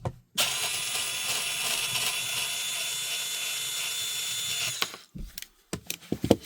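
A power tool unscrews the motor of a Kirby Sentria vacuum cleaner, a steady close whir lasting several seconds before stopping, followed by a few light clicks and handling knocks.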